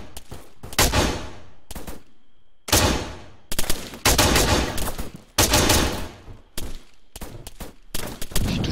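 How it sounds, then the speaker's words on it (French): Loud bursts of automatic gunfire in the video game Altis Life during an attack at a customs checkpoint, several long rattling volleys separated by short silences, close and harsh. "je vois les tirs"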